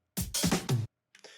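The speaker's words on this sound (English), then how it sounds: "it's just like an EDM fill from Splice." A quick electronic drum fill: three punchy bursts of heavy, tom-like hits in rapid succession, then a short pause and a softer, brighter hit at the end.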